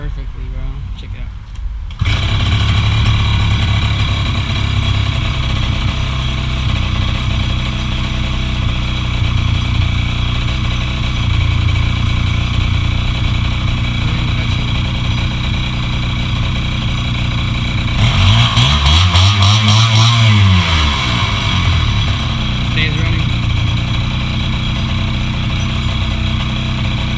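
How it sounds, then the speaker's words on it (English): A gas engine idles steadily and close by after a throttle adjustment, with a continuous even drone. A brief wavering swell comes near the end, and people talk over the engine. "So I adjusted the throttle, and now check it out guys, I got it to idle perfectly"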